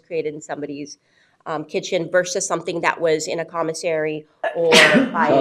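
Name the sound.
sneeze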